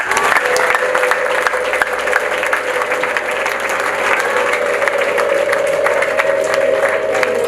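Wedding guests clap together in steady, dense applause that holds at a constant level throughout, with a faint sustained tone running underneath and no talking.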